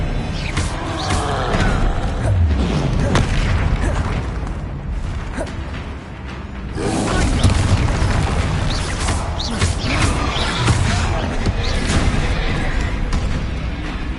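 Bombarda explosion spells going off in Hogwarts Legacy, heavy booming blasts and crashes layered in a dense, loud, continuous battle din with a brief dip in the middle.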